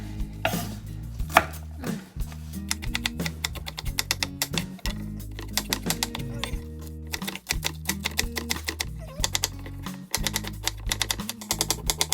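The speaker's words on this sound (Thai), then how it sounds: "หั่นเลยค่ะ" A knife chops herbs, shallots and garlic for pork larb on a cutting board, fast and rhythmic, close and loud, the taps running steadily with brief pauses.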